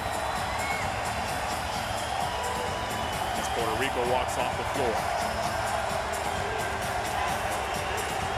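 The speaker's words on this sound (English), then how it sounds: "the crowd giving him love right back" A basketball arena crowd at a FIBA Olympic qualifying game between Bahrain and Puerto Rico cheers and applauds for player Ali Hassan, a steady loud roar with whoops under an announcer talking throughout.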